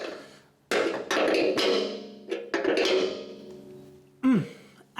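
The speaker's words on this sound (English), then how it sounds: "tighten that up using a 9/16 wrench" A 9/16 wrench tightening a jam nut down onto a fuel tank fitting during an LS swap, heard as a few close, sharp metallic clanks and ringing taps separated by brief pauses.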